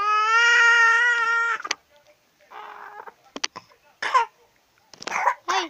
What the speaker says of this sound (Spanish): ahí está tosiendo el niño